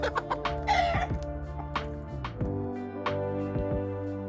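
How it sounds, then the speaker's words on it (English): A hen clucks in quick, close, repeated bursts, loud and alone, with a brief higher squawk early on. "Hen."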